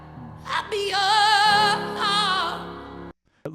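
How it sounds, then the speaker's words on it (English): A solo voice sings sustained, wavering notes with a rough, scratchy creak in the tone, then stops abruptly. "those are the false vocal folds vibrating"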